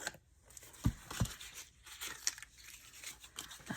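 A paper card snipped with scissors, a few sharp crisp cuts and rustles close by, quiet and alone in a still room.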